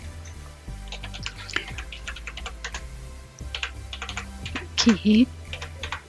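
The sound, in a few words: typing text on a computer keyboard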